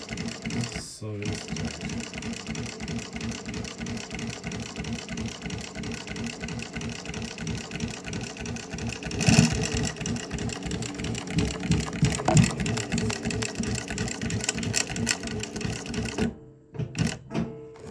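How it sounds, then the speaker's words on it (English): Juki LU1509N industrial sewing machine stitching steadily with a fast, even mechanical chatter, close and loud, running for most of the stretch with brief pauses near the start and end. "Oh, look, it's a nice sample, nice stitching machine."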